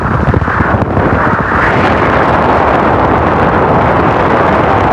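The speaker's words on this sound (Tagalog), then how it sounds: "ipaparinig ko sa inyo yung sound effect ng hangin" Strong, cold wind sweeps along a road lined with coconut trees, a loud, constant rushing buffet of wind noise against the microphone.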